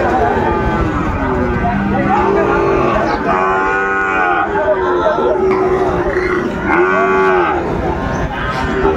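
Sahiwal bulls and calves mooing at a livestock market, several loud drawn-out moos rising and falling one after another, close by, with people talking in the background crowd.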